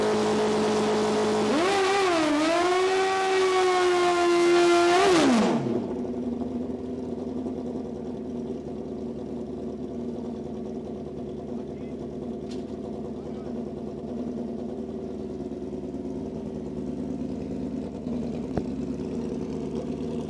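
A Suzuki GSX 1100 wheelie bar drag racing bike at a drag strip revs loudly for a few seconds, then drops to a steady low idle rumble, with an announcer talking over it.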